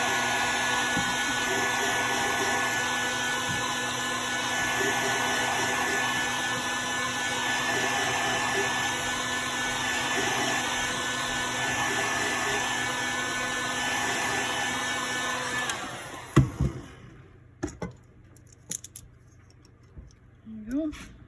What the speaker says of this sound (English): take your heat gun and you're gonna heat it up